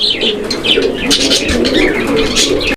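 A pair of fancy pigeons coo loudly and close by in repeated throaty rolls, mixed with sharper chirps and a brief flutter of wings, with no talking.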